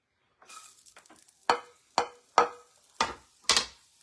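Onions cooking in a skillet, with a soft sizzle broken by five sharp spatula scrapes or clanks at roughly half-second intervals, close and fairly loud with no talking.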